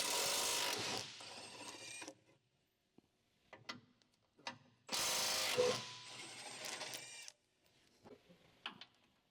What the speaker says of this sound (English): Using the 18mm deep socket with the electric impact wrench, remove the transfer case skid plate mounting bolts.